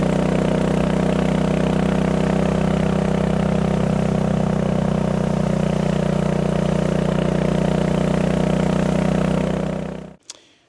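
A BSA Goldstar 650 motorcycle engine runs steadily up close, a loud continuous throb that holds for about ten seconds before cutting off abruptly near the end.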